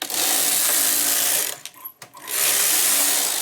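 A knitting machine knits rows of yarn with a loud, continuous mechanical whir as the carriage runs, briefly stops with clicks and a clack, then runs again, all close up.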